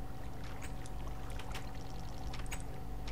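Water being scooped up with a bucket in a blocky survival video game, heard as a steady watery wash with small splashy pops and a low hum throughout, no talking.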